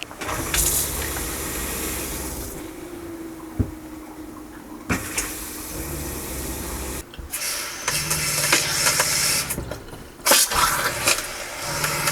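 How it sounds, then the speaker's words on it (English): Water gushes from an RV faucet in bursts while winterizing with pink antifreeze, starting and stopping several times, with pipes hissing and gurgling between runs. "go to each faucet and turn them on and run them through in hot and cold"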